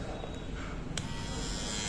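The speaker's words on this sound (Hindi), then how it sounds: "जैसे ही यहाँ पे आप ट्रिमर को ऑन करते हैं, मैं आपको ऑन करके दिखाता हूँ" A Havells BT5301 trimmer runs with a steady, close electric buzz and hum, constant and unbroken for the whole stretch with no talking.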